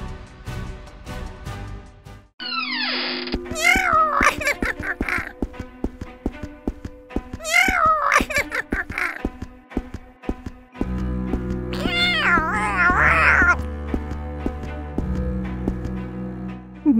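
A cartoon cat meows in several drawn-out, wavering calls spread over steady tonal music, with brief horse-like neighs and clip-clop effects mixed in.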